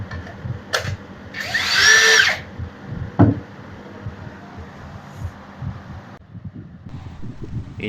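A Dagmara 10mm brushless cordless drill whirs in one loud burst of about a second, followed by a brief second pulse, against background room and wind noise.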